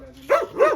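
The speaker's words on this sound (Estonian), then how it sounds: "Täiesti segased koerad ja jumalauda." Dogs in Greece bark twice in quick succession, loud and close, with short sharp yelps and no talking.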